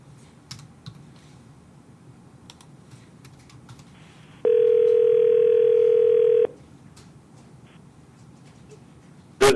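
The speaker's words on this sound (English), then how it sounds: "Hold on while I try to call Mr. Ghibaudo now" A telephone dial tone sounds while a call is placed from a child support court office, one steady electronic tone held about two seconds amid quiet clicks and keyboard tapping.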